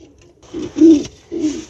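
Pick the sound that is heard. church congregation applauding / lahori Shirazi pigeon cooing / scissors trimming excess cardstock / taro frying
lahori Shirazi pigeon cooing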